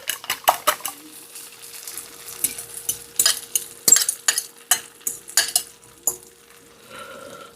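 A fork scrapes and taps while mixing eggs in a non-stick pan over heat, making repeated close clicks and scrapes in an uneven rhythm over a soft, steady sizzle.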